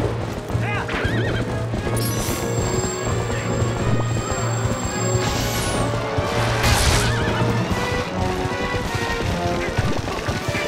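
In Zelda: Twilight Princess HD, a horse whinnies loudly over rhythmic galloping hoofbeats, with game music and effects layered underneath and someone talking over part of it.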